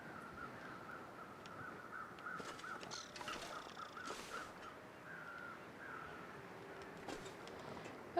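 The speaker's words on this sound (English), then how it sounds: "It must be over there, where those crows are." Crows caw in the survival video game The Long Dark, with several faint, distant calls spread over a steady windy ambience and no talking.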